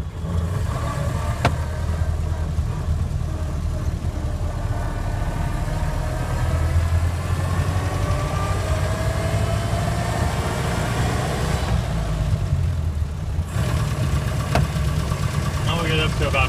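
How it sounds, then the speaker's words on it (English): A 1928 Ford Model A Tudor sedan engine running continuously as the spark is advanced, a steady loud rumble with a slight rising pitch as revs build, with someone talking over it. "we'll advance the spark slightly as we build up some RPM in the motor"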